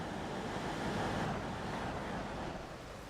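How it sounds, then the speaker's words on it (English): Strong wind at a coastal station on the North Wales coast in a train simulator game, a loud, broad, continuous rush that stays steady throughout. "It's very windy."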